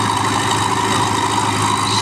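Sonalika and Swaraj tractors locked in a tug of war, their engines roaring in a loud, steady, heavy drone with no break, no voices heard.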